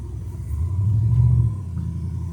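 A 1994 Cadillac Sedan DeVille with a fuel injection fault rumbles along on a drive, heard from inside as a low steady engine drone that swells briefly and then settles back.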